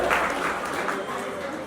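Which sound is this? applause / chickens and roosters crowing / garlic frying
applause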